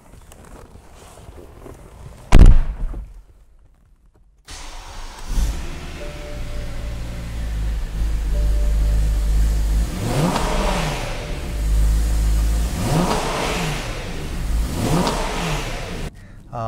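A 2011 BMW M3 Convertible heard from outside: a door thump, then the engine starts and idles, followed by several rising revs of the engine and exhaust, with a final thump at the end.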